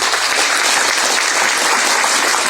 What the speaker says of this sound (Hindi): एक बार आप लोग उमेश साहब के नाम पर ताली बजाइए।